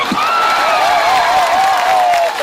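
An audience at a Gujarati political rally breaks into applause, a dense crowd clatter with a steady tonal whine riding above it for a couple of seconds.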